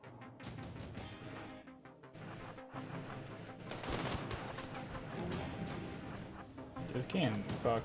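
Video game battle with rapid cracking gunfire and sniper shots scattered through, over a busy background of game sounds, with people talking throughout.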